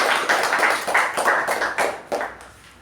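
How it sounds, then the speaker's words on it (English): Audience applause at a club meeting: a short run of bright, uneven claps from a small group, fairly close, tapering off after about two seconds. "Let's give a big round of applause to"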